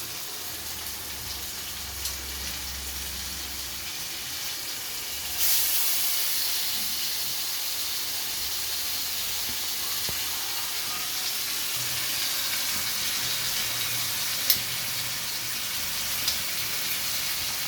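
Washed chicken for curry drops into a hot cooking pot: a sudden loud sizzle bursts in partway through, then settles into a steady steaming hiss that continues to the end.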